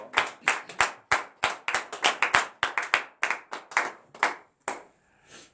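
A church congregation clapping in praise, with about twenty sharp, loud handclaps in a steady, fairly quick rhythm that loosens and fades near the end.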